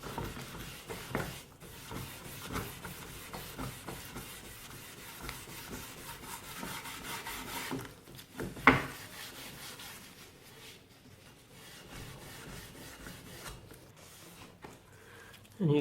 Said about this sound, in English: I just give this a good rub down. And this just helps to get rid of the last paint stripper residues.